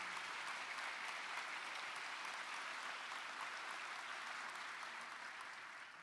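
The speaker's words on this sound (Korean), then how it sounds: "모두 큰 박수 부탁드립니다" An audience applauds at a new police officers' appointment ceremony, a dense, even wash of many hands clapping steadily for several seconds before it begins to fade.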